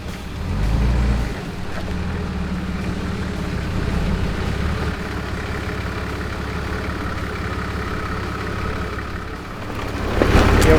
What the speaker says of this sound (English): her massive 37-inch tyres were able to get up and drive straight over it